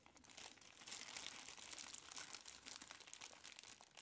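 A clear plastic bag wrapped around a shipment of potted echeverias crinkles steadily as it is unfurled, a quiet, continuous rustle with no talk.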